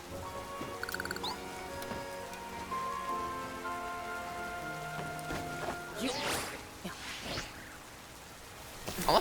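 Rain falling in the video game Pokémon Legends: Z-A, a steady patter of drops on surfaces beneath tonal game music, with brief louder swishes near the end.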